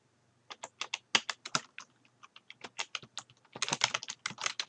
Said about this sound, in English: I can type in my information.